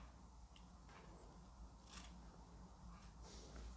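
Quiet snipping and crunching from scissors cutting through a soft tennis racket overgrip, a few brief cuts over a steady low background hum.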